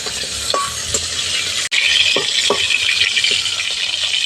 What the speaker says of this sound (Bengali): পটলগুলো একই রকমভাবে ভেজে নিচ্ছি।